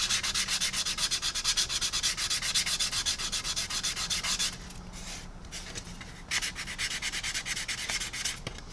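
Putty on the fuselage of a 1/144 Zvezda Boeing 787-9 plastic model airplane is sanded by hand with steady, close, rhythmic rubbing strokes. The strokes are continuous, then turn softer and more broken partway through.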